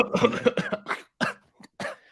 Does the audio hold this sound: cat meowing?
no